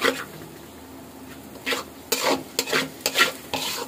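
An egg is stir-fried in oil for chicken fried rice: a spatula scrapes the pan in quick, uneven strokes over a constant close sizzle.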